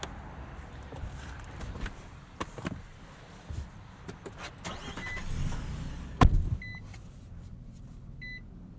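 A 2022 Nissan Frontier SV 4WD crew cab pickup starting up, with soft cabin clunks and rustling, a sharp thump as the engine catches, then a few electronic chimes beeping from the dash.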